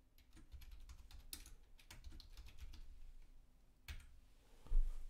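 Soft, rapid typing on a computer keyboard, irregular clusters of light clicks close to the microphone, ending with a slightly heavier tap.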